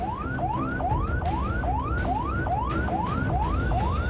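An ambulance siren on the Tangerang toll road in Banten wails in a rapid, repeating rising sweep, about nine cycles, loud and close over a rumble of traffic and road noise.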